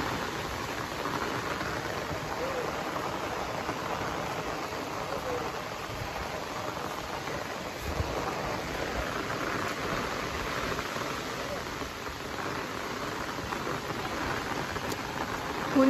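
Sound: rain falling outdoors at a resort

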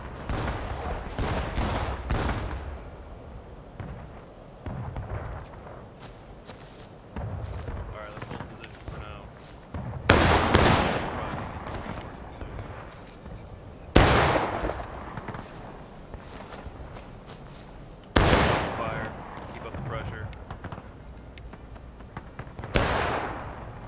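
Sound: musket gunfire in War of Rights video game

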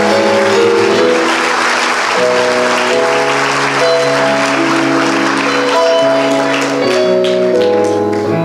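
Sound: congregation applause

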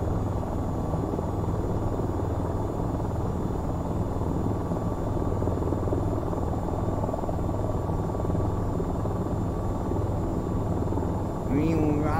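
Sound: AH-94 helicopter flying in video game VTOL VR

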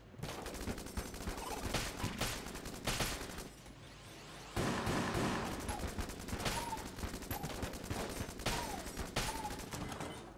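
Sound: gunfire in the video game Enter the Gungeon

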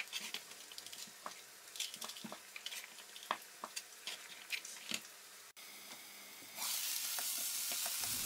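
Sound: potatoes frying in olive oil

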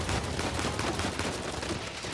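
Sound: gunshots at a gas tank in Uncharted 4 video game

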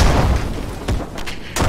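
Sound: breaching charge explosion in video game ArmA 3

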